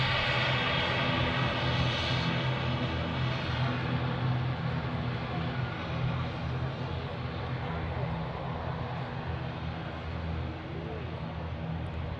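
A fixed-wing airliner's engines at Manchester Airport give a steady, droning hum with low tonal rumble, moderately loud and constant throughout, while people talk over it.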